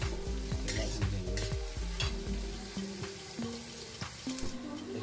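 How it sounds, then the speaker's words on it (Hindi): Onions fry in a pan while being stirred for an arbi curry, a close sizzle overlaid with frequent scraping, clinking strokes of the spoon against the pan. "देखिए प्याज हम सेक रहे हैं, ब्राउन होने तक इसको सेक करेंगे।"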